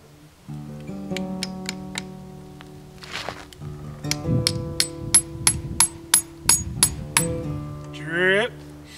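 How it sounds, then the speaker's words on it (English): A metal sap tap is hammered into an old sugar maple in a snowy winter wilderness camp, with a run of sharp, evenly spaced close taps over a low background hum. "This guy, I'm gonna hammer this guy right in there."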